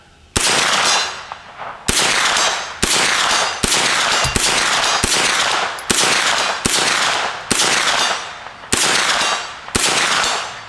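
A Smith & Wesson Response pistol-caliber carbine fires about a dozen sharp, loud shots outdoors on a 100-yard range, spaced roughly a second apart, each crack ringing off before the next, with no talking.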